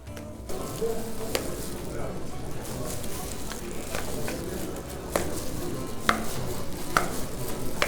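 A knife slices through crepes on a board, cutting them into diamond baklava-style pieces for a Şanlıurfa dish, with several sharp taps against the board over a steady kitchen background of sizzling and clatter.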